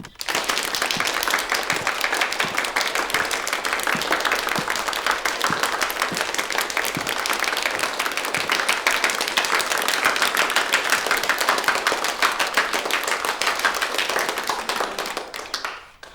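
A room of students applauds in a Republic-era Shanghai drama, a sustained group clapping with fairly even rhythm that holds steady for about fifteen seconds before stopping.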